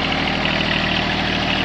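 A John Deere 1023E compact tractor idles close by, its engine giving a steady, even rumble with a slight regular pulse and no change in speed.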